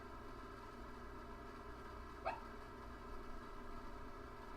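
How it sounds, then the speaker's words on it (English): A dachshund sleeping and barking in her sleep gives a single faint, muffled yip partway through, set against a quiet steady hum with no voices. "I think my dachshund is barking in her sleep"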